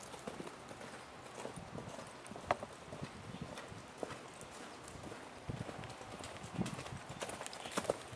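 A Morgan horse trotting during ranch-style cow work and roping practice, its hooves giving a steady, faint clip-clop rhythm heard from a distance over low background noise.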